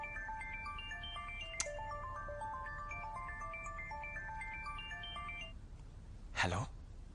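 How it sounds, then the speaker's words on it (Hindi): A phone ringtone plays a bright, repeating melodic pattern for several seconds at night indoors, then stops, followed by a brief rustle. "इतनी रात में फोन?"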